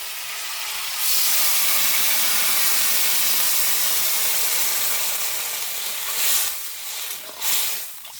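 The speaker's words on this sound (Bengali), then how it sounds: "এবার দিয়ে দিচ্ছি জল।" Crab curry in a hot pan bursts into a loud, steady hiss and sizzle as water is poured over the frying crab, holding strong for several seconds before easing off with a few softer stirring sounds.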